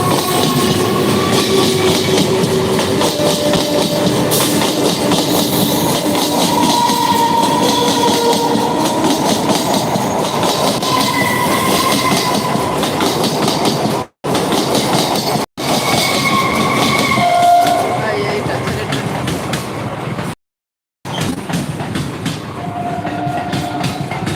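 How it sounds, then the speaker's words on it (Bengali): A train rolls loudly into a station at Birati, close by. A steady rumble and clickety-clack of wheels run throughout, with faint squeals, and two short breaks in the sound near the end. "এই যে ছেলে ট্রেন ঢুকছে"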